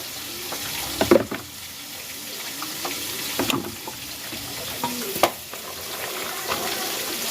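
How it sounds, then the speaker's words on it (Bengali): Fish frying in hot oil in a home kitchen, with steady sizzling and sharp popping spatters near the start and again around the middle and end. "ওইদিকে মাছ পটাশ পটাশ করে পড়ছে"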